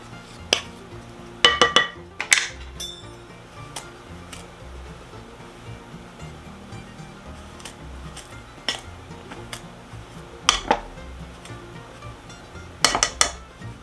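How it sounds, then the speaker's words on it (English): Scattered metallic clinks and scrapes of a pastry blender cutting cookie dough in a bowl, a few sharper clusters between quieter stretches of soft background noise. "mixing it with the pastry blender until we get some coarse crumbs"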